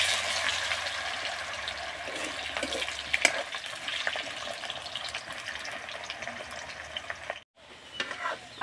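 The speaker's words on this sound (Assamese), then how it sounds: "আলুখিনি ফ্ৰাই কৰি লৈ গ'ল" Potatoes fry in hot oil over a gas flame, giving a steady, close crackling sizzle that runs throughout and cuts out briefly just before the end.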